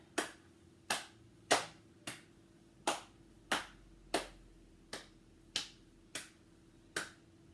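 Single sharp hand claps during a seated chair aerobics session, about eleven evenly spaced beats roughly every 0.6 seconds, close and crisp over a faint background hum, with no talking.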